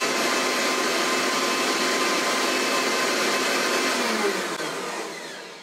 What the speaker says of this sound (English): I'm just gonna grind all of this together so I can grind up the celery seeds.